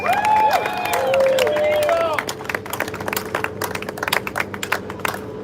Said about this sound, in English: So please give a round of applause for Esteban Hernandez.